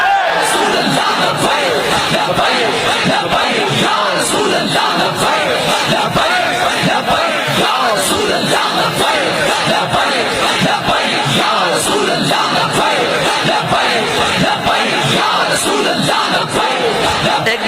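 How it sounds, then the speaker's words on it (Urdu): A huge religious gathering roars with sustained massed chanting and shouting of the Labbaik slogan, loud and continuous, dense voices filling the space throughout. "نعرہ بتاؤ کہ آج بھی لبیک کا نعرہ اسی طرح لگ رہا ہے"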